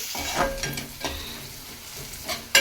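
Onions frying in a pan for an Andhra-style gongura prawn curry give a close, steady sizzle, with a few louder stirring scrapes at intervals and a sharper clatter at the end.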